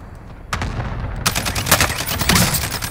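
Rapid rifle fire from a SCAR in the Warzone battle royale game, with a few loud cracking bursts after a quieter start, repeated shots densely clustered through the last half.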